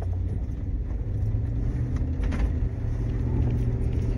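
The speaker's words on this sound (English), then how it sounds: "I'm not gonna push it because it's a truck coming." A truck passes along a road, a steady loud low rumble of engine and tyres holding through the whole stretch with a slight swell midway, no voices over it.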